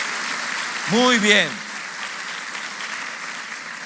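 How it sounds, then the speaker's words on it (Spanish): A church congregation applauds, a steady wash of clapping running throughout, while a voice briefly speaks over it near the start. "se ponen de pie y nosotros los aplaudimos como lo que merecen"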